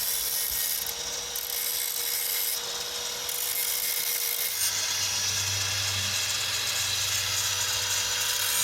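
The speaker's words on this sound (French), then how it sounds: "il faut que je meule ça pour que ça remplace l'épaisseur de la poulie, plus l'épaisseur de la cale" Grinder working a metal spacer part in a repair of a broken-down vehicle, a loud, steady abrasive hiss close by that grows heavier midway with a deeper droning undertone.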